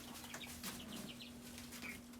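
Chickens in a backyard flock cluck in short, faint calls over a steady low hum, with a few soft flutters between the clucks.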